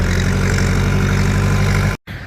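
A farm tractor's engine idling loudly and close, a steady low rumbling drone that cuts out abruptly near the end before returning more quietly.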